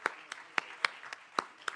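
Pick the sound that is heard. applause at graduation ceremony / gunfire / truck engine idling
applause at graduation ceremony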